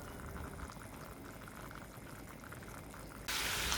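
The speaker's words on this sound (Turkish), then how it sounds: "Eklemiş olduğum su tamamen çekinceye kadar sucukları bu şekilde pişirmeye devam ediyorum." Sliced sucuk sausage simmers in water in a pan, a quiet, steady bubbling boil that swells into a louder, brighter hiss in the final moments, with no talking.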